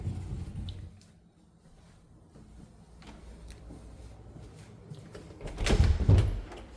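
Closet door in an older house slides or swings open near the end, a loud scraping rumble after a stretch of quiet room tone and faint clicks.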